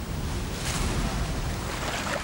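Sea waves wash and wind rushes around a kayak low on the water off a rugged island coast, a close, continuous roar of surf and blustery air.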